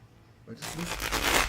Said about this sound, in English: With this shuffling lately.